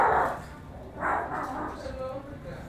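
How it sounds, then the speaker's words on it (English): A pet dog barks and whimpers at a visitor arriving at a home, a few close, loud yaps mixed with fainter whines, with people talking over the commotion. "You will get barked at"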